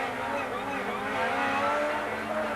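Touring race cars from the 1988 ETCC round at Zolder roar steadily through wet conditions as a pack gets underway, a continuous dense engine drone with a commentator talking over it.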